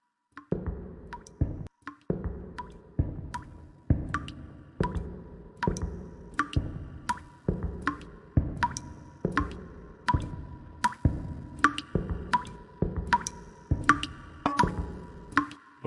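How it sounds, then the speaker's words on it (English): Water drips steadily from a leaking pipe in the video game Blindscape: a regular run of close, distinct plops, each with a short wet tail, repeating at an even pace with no voices. "There's a pipe that's always leaking right above it. I guess I'll just have to walk towards the dripping sound."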